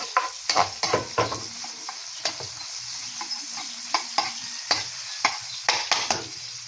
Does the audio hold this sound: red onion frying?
yes